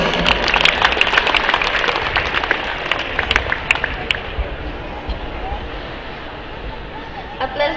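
Audience clapping at a school graduation ceremony, a steady dense patter of many hands with murmuring crowd noise underneath, thinning out toward the end.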